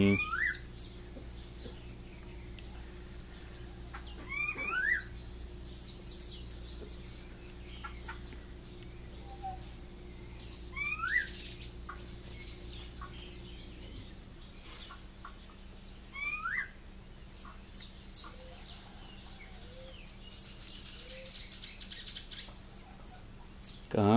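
A rufous-bellied thrush sings intermittent phrases over a steady low engine-like hum that drops away midway, with chickens clucking in the background.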